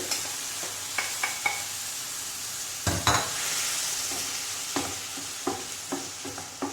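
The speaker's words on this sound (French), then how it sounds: "Et maintenant, je vais ajouter les tomates." A spoon stirs tomatoes into onions in a frying pan for a whiting fish tajine with peppers, making a series of close clinks and scrapes, scattered then quickening near the end, over a low steady sizzle.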